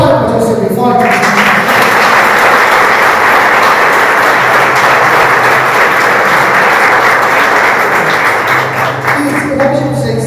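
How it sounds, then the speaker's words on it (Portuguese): Loud, sustained applause from a church congregation during a worship service, a dense wash of clapping hands filling the room steadily for about ten seconds, with voices mixed in underneath. "Você pode aplaudir o Senhor bem forte?"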